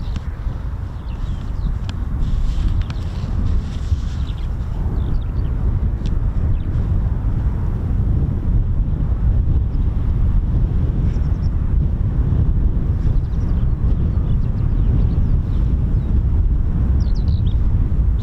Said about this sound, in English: Suddenly the wind's picked up.